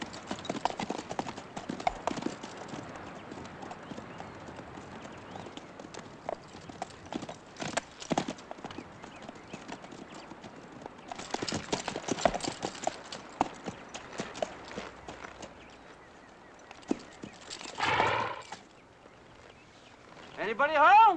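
Horses' hooves clip-clop steadily on the ground, a continuous rhythmic walking pattern with intermittent louder bursts of movement and tack, and a brief snort near the end.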